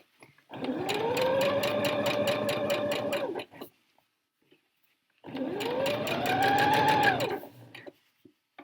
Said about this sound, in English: Just going to do a back stitch to anchor it again and then we're off.